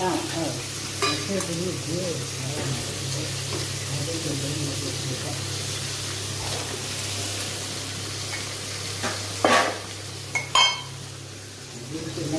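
Mustard seeds, fenugreek, shallots and tomato fry for a Nagercoil-style fish curry with a steady sizzle. Stirring scrapes and clinks of pots and utensils sit over it, and voices can be heard nearby.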